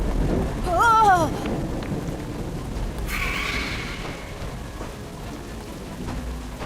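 Thunderstorm with steady rain in the video game Harry Potter Magic Awakened, a constant hiss of rainfall with a rumble of thunder, heard under voices speaking.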